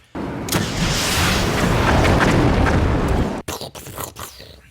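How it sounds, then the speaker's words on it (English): A loud explosion sound effect booms and rumbles for about three seconds, then cuts off abruptly into a few scattered bangs and crackles. "I know that explosion sound"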